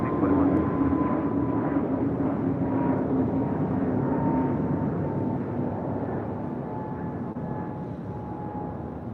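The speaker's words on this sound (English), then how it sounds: "That was Avianca Flight 641 heading to Guatemala City in an A320 Neo." An Avianca Airbus A320neo departs LAX for Guatemala City, its engines a steady, loud jet roar holding evenly throughout, with a sustained tonal whine above and radio-style voices talking over it.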